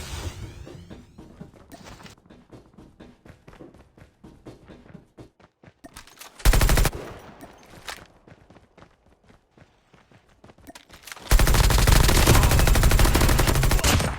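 Bursts of Type 19 rifle fire from a video game crackle in rapid strings, with two dense loud volleys standing out among quieter shots and footsteps.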